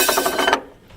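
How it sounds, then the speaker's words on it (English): A cutlery drawer yanked open as a sound effect: a quick burst of rattling metal utensils in a few clattering pulses, close and loud, then cut off within about half a second. "She then yanks open the cutlery drawer."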